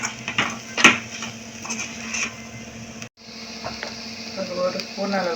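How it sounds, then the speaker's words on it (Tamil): Onion, tomato and masala sauté in a pan for a South Indian quail roast, with soft sizzling and the scrape of a spoon stirring, plus one sharp clink against the pan. "வெங்காயம் தக்காளி சேர்ந்து இப்போ வந்து மசாலா சேர்த்து நம்ம பச்சை வாசனை போகிற அளவுக்கு வதக்கிக்கணும்"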